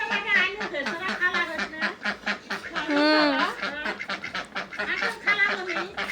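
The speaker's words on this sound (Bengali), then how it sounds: "আমাদের বাসায় 2টা হাঁস।" Two ducks quack loudly and repeatedly close by, a busy chorus of overlapping honking calls with a voice mixed in.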